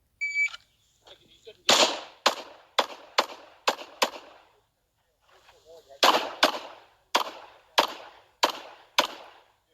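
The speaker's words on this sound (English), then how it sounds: "all I needed to do was draw and start to shoot" Pistol shots from a Gen 5 Glock 17 Carry Optics gun with a ZEV slide at a USPSA match, fired in two quick strings of about six sharp cracks each, loud and close, with a few quiet clicks and shuffles before them.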